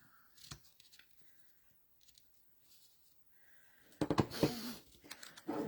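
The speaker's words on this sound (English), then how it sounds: "I'm going to grab my ribbon scissors, fix up these tails a little bit." Quiet snips and rustles of scissors cutting ribbon, a few scattered cuts followed by a louder burst of handling noise.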